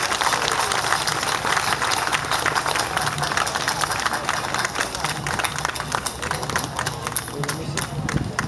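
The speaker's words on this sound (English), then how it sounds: "Please, big round of applause." Audience applause at an outdoor Lotus Festival event, a steady wash of clapping from a crowd that holds loud and even throughout with no talk on top.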